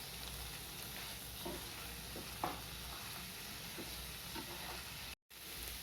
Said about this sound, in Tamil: பன்னீர் போட்டுட்டு ஒரு 2 நிமிஷம் நல்லா கிளறி விடுங்க